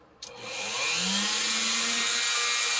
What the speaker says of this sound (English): We're going to turn on our drill.